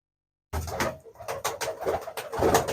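A prized fancy pigeon cooing close to the microphone in repeated bursts after a moment of silence, the throaty calls rising and falling without any talk.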